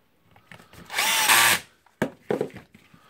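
A power drill drives screws while a Makita GA5030 125 mm angle grinder is reassembled: one sustained whirring burst, then a couple of short sharp bursts close by, with no talking.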